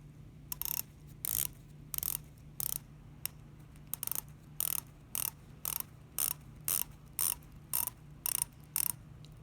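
An Addiesdive MY-H3-C quartz dive watch bezel is turned by hand. Crisp ratcheting clicks come close and quiet in a steady series of short bursts, about seventeen in all, with faint background hum between them.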